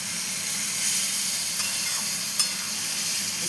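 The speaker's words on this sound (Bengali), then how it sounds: "একদম আমার কড়াইতে কষালে ভালো হয়, কারণ কুকারে ঠিক করে কষানো যায় না।" Mutton sautéing in a kadai sends up a continuous, fairly loud hiss of sizzling fat, broken by a single short tap or clink of a utensil near the end.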